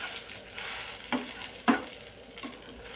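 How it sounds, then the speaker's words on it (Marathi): Cooked dal is stirred into hot tempering in a pan, with a steady sizzle and frying hiss throughout and a couple of louder scraping clinks from the spoon against the pan. "यामध्ये टाकायची आणि मिक्स करून घ्यायचं व्यवस्थित।"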